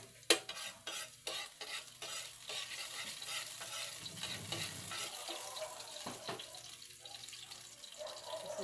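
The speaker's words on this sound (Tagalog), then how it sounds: "Magigisa na tayo. Unahin ko po ang" Garlic being sautéed in a pan for a home-cooked dish, opening with a sharp clatter, then a quiet sizzle punctuated by stirring scrapes and clinks, with faint water-like running sounds behind it and no speech.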